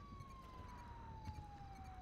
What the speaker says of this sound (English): I think I hear sirens.